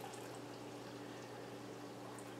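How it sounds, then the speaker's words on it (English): Apple water is poured into a measuring cup, a quiet, steady liquid trickle against a low background hum. "I'm gonna measure out my apple water here until I get to 3 cups"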